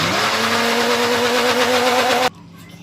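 A kitchen blender whirs loudly and steadily as it mixes mango with whipped cream and sugar, then cuts off abruptly, leaving near silence.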